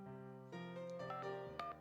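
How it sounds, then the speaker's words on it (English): A cell phone number being dialed in the visual novel game Dies Irae, a quick sequence of tonal keypad beeps, each pitched tone held briefly in succession over a soft musical background. "I dialed the number Kasumi gave me earlier"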